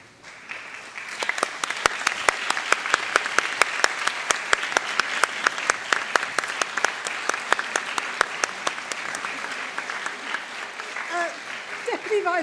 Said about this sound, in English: can I ask you to stand and applaud your supporters?